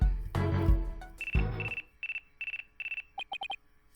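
A phone rings in the video game Ace Attorney: Dual Destinies. Two heavy musical stabs come first, then a repeated electronic ring in short regular bursts that ends with a quick run of rapid trilling chirps.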